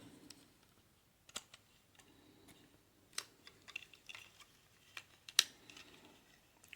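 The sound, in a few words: Transformers Thundercracker toy parts clicking into place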